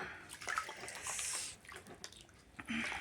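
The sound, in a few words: feet soaking in hot salted water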